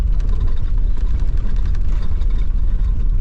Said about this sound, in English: They're big bikes, big heavy bikes with the road tyres on them.